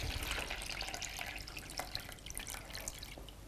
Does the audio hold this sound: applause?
no